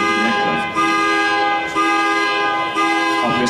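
A car horn sounds in a series of sustained honks with brief gaps, loud and close, over faint background noise.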